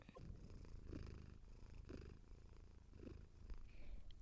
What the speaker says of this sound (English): my kitty's coming to get pets. Listen. That's her purring in the mic.